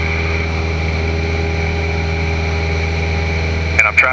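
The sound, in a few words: small airplane engine at full throttle during climb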